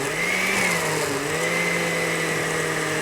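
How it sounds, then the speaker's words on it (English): A kitchen blender whirs steadily as it blends frozen rosé with strawberry puree, a continuous close motor drone with a slight pitch wobble partway through. "Live TV, a blender, very scary, right?"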